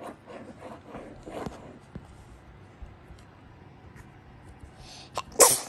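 A child or adult sneezes once near the end, a sharp burst standing out over soft rubbing and handling noises of playing with toys and slime indoors, with quiet talk earlier.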